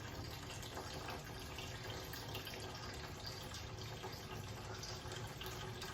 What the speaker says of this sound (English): Obviously it's draining slower now.